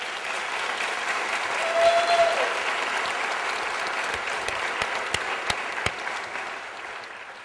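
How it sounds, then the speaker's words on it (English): A conference audience gives a round of applause for a skeptic panel on death, a steady sustained wash of clapping with a brief whistle, tapering off with a few louder isolated claps near the end. "forget one more round of applause for everyone"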